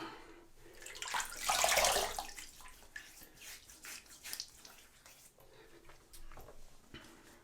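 A Gillette Fatboy safety razor is rinsed under running water at a sink: a burst of splashing flow near the start, then softer intermittent trickles and taps, fairly quiet.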